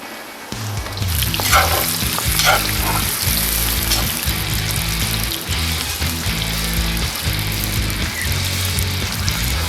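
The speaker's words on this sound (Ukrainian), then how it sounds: "Настала черга обсмажити шампіньйони." Champignon mushrooms frying in a kazan, a loud steady sizzle with bursts of hissing and crackle as they are stirred, close and continuous for the whole stretch.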